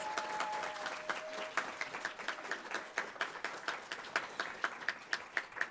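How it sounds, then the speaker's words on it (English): Audience applause at a women's achievement awards program, a fairly distant crowd clapping steadily with sharper individual claps standing out toward the end. "And now you can give them a big old round of applause."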